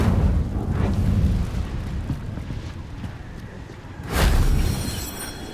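An Incendio fire spell cast in Hogwarts Legacy: a loud, rushing whoosh of flame that fades away, followed by a second sharp flaring burst near the end.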